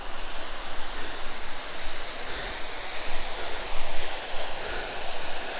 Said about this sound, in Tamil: இதுதான் அந்த வாட்டர் ஃபால்